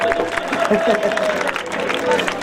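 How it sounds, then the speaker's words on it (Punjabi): Outdoor live Punjabi music event audience applauding a singer, a steady dense wash of clapping with crowd babble throughout, fairly loud and continuous. "ਇਹਨਾਂ ਦੇ ਨਾਲ ਦੀ ਇੱਕ ਤਾੜੀ ਮਾਰ ਦਿਓ"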